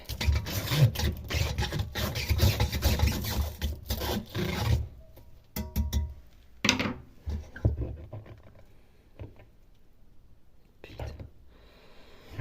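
A brush scrubbing and unclogging the holes of a Miele washing machine, rapid rasping strokes up close that thin out into scattered scrapes, with a voice talking quietly over it.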